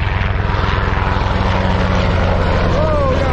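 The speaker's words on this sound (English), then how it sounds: "the mighty Blackhawk coming in hot" A UH-60 Black Hawk helicopter comes in low and fast at an airport, its loud rotor thumping in a rapid steady beat under a deep engine roar, close and dominant throughout.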